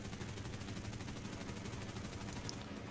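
A single 7.7 mm aircraft machine gun firing in the video game War Thunder, heard as a continuous rapid rattling burst throughout, steady and moderately loud with no talk.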